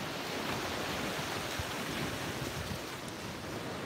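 Steady ocean surf washing onto a beach at sunrise, a continuous broadband roar with wind buffeting the microphone, no voices.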